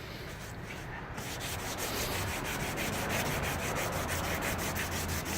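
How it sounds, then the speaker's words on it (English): Weathered, sun-baked plastic is wet sanded by hand with 3M wet/dry sandpaper: steady, close rubbing and scraping in quick back-and-forth strokes that continue without pause. "I'm just using 3M wet dry sandpaper."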